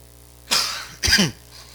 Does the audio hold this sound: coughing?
yes